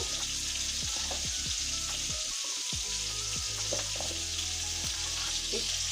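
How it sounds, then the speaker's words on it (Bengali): Potatoes and cauliflower, with radish and beans, frying lightly in a pan give off a steady, even sizzle, broken by a few soft stirring knocks, close and moderately quiet with no talk. "তা এভাবে করে ছটফট হালকা একটু ভেজে নেব"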